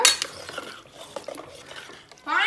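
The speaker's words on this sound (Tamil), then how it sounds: "இப்போ இதை நல்லா மிக்ஸ் பண்ணி விட்டுக்கோங்க" A spoon stirs milk into rava payasam in a metal pot, making light scraping and a few clinks against the sides, close and fairly quiet.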